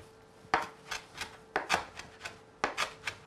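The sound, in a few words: chopping coriander coarsely with a knife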